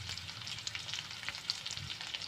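Onion, curry leaves and chillies sizzle in hot oil after mustard seeds pop, a bright continuous frying hiss with small crackles, close and steady.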